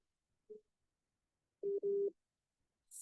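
A telephone rings faintly: a short electronic tone, then a longer two-part ring after a pause, with no talking.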